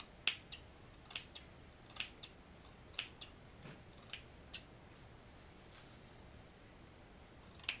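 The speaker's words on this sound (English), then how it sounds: "I'm gonna cut away the piece of lace that absolutely no hair is on." Scissors snip lace off a glueless HD closure wig, giving a dozen or so crisp, close cuts at an uneven pace over faint room noise.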